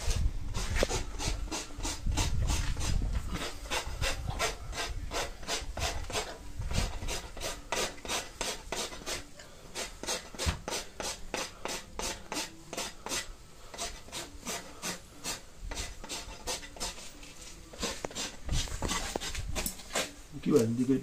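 Steady, rhythmic rasping of a farrier's rasp filing down a horse's hoof during trimming, repeated close strokes continuing throughout, with people talking at times over the scraping.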